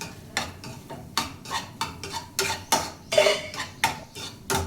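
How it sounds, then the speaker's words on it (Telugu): Spoon scraping and clinking against a pan while tomato egg curry with garam masala, turmeric and chili powder is stirred, a dozen or so irregular metallic strokes at close range with no talking. "అటు ఇటు కలుపుకుంటున్నాను"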